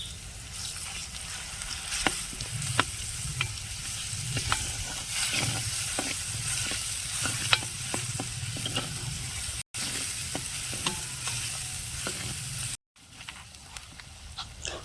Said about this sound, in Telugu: కొద్దిగంత పసుపు అల్లం వెల్లుల్లి పేస్ట్ కూడా వేసి పచ్చివాసన పోయేంత వరకు వేయించుకుందాం